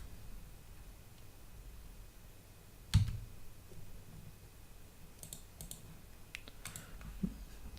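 Quiet, scattered clicks come from keys on a computer keyboard as a spreadsheet formula is typed, with one louder knock and a few short bursts over a steady background hiss.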